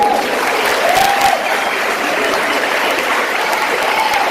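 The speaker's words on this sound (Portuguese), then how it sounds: "Un aplauso para Jesucristo." A church congregation applauds, dense sustained clapping that fills the space evenly from start to finish, with a faint voice briefly audible over it.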